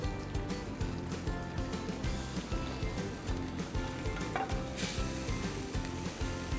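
Sliced squash rings dressed with olive oil, salt, pepper and Parmesan sizzling in a hot pan, a dense crackling fry with rhythmic low bubbling pulses, close and steady, no talk.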